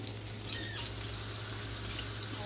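Tap water running into a kitchen sink while hands and dishes are washed: a steady, even rush of water, with a brief squeak early on and no speech.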